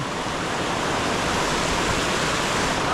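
A mountain river in Ferguson Canyon rushes steadily and loudly nearby, a constant broadband roar of flowing water with no breaks.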